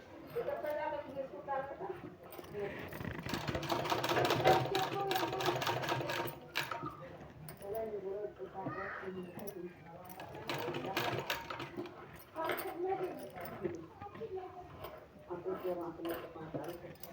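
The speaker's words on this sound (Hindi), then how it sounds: "इसको इस तरह से हमको चारों तरफ से सिलाई लगा देना है कपड़े में।" A sewing machine stitches fabric all the way around a sleeve piece, running in repeated rattling bursts with short pauses between them, fairly quiet and close, as a voice talks at times.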